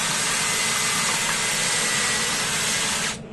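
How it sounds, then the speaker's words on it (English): A power drill re-drilling a hole with a slightly larger bit while building a robot from recycled objects, a loud steady whirring hiss running continuously before cutting off abruptly at the end. "That one's a little bit out, so I'm going to re-drill that, but with a slightly larger drill bit."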